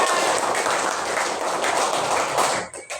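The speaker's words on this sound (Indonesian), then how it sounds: "Kasih aplaus dulu untuk teman-temannya." Schoolchildren in a classroom clap for their classmates, a dense, close burst of applause lasting a couple of seconds before it thins into a few last scattered claps.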